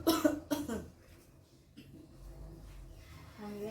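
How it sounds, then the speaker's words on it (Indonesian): A patient gives two forceful coughs in close succession after deep breathing during a nursing procedure, followed by quieter breathing and faint rustling in a calm room. "kemudian batukan Ibu yang kuat"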